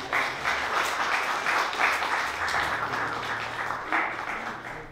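Audience at a poetry reading applauding a poem and its poet, dense steady clapping from a crowd for about five seconds, fading slightly toward the end.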